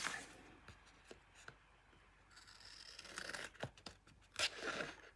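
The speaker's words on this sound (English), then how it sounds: "And then we're going to cut off this piece here, straight down, and then we're going to trim off this" Paper being cut and trimmed on an envelope craft project, soft crisp snips and rustling crinkles in an irregular sequence, quiet and close, with no speech.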